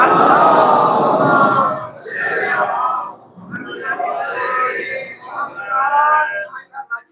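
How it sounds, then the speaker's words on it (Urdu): A Shia congregation at an imambargah during a Rabi ul Awwal majlis loudly recites durood together, a swelling crowd chant in several rising and falling waves that echo through the hall. "درود پڑھتے ہیں مل کے بلند آواز"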